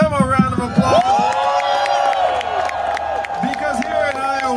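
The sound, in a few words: rally crowd applauding and cheering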